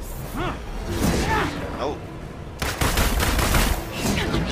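Gunfire in the video game Marvel's Avengers, with rapid bursts of shots mixed with whooshes and impacts forming a dense, loud action soundtrack, while a player talks over it.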